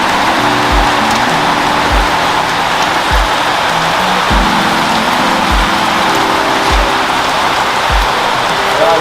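Heavy rain falls in Trench Town, Kingston, a loud, continuous wash of downpour with periodic low thuds and a droning tone underneath.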